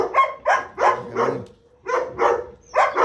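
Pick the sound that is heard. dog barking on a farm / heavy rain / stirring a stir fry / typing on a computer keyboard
dog barking on a farm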